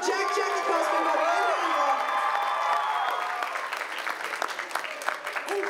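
An audience at the Colorado Anime Fest 2022 costume contest claps loudly, dense applause with a few whoops that tapers off toward the end, while a voice speaks over the start.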